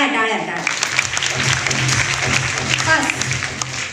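Applause from a group of girls playing a pass-or-fail game, clapping steadily and fairly loudly for the whole stretch, with voices mixed in underneath.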